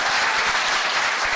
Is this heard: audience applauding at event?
yes